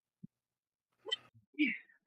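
A single short sneeze from a player during a tabletop role-playing session, quick and fairly close, with a brief vocal burst after it.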